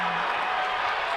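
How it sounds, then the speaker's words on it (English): High school basketball crowd roaring after a steal in a Caruthersville vs. Portageville game, a loud, dense, sustained wall of cheering and clapping in a gym. "now you can hear the crowd"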